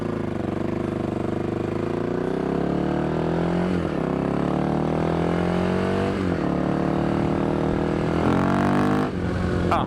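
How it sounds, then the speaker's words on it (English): Enduro motorcycle on soft mousse tires ridden nearby, its engine droning steadily with several rising revs between gear changes, loud and continuous with no talking. "I have to drive carefully now actually, because I have the enduro tires on with mousse in the front."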